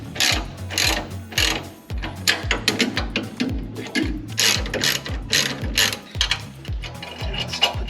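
Ratchet wrench clicking rapidly in repeated bursts as bolts are tightened on anti-moan braces under a Ford Fox Body Mustang, close and fairly loud with a steady mechanical pawl rhythm.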